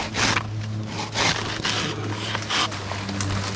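A handsaw cuts through a tree branch in rhythmic back-and-forth rasping strokes, close and moderately loud, about half a dozen pulls and pushes.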